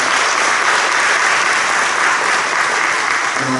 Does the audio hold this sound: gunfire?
no